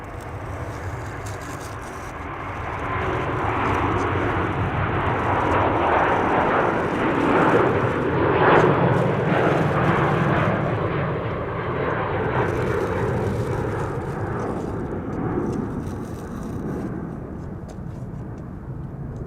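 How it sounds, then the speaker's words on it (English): A China Airlines Airbus A350-900 departs Amsterdam Schiphol for Taipei, a loud sustained jet-engine roar that swells through the middle and stays heavy to the end, without talk. "here's the Chinese A350 to Taipei"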